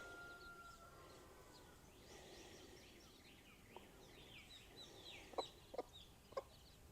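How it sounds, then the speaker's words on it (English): Hen with a brood of baby chicks on a farm, clucking softly at a distance amid outdoor ambience, followed by a few sharper, louder clucks near the end. "Here comes this chicken with all her baby chicks."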